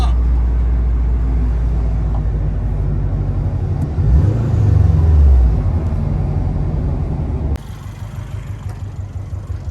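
Homebuilt car out on its first drive, a loud low engine rumble with cabin noise, a surge where the engine note rises and falls, then a quieter steady hum.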